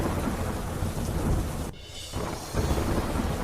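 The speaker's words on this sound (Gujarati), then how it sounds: "ધીમી ધારે જામ્યો વરસાદ" Steady monsoon rain falls in Panchmahal, Gujarat, a dense, close wash of hiss that dips briefly near the middle before resuming just as thick.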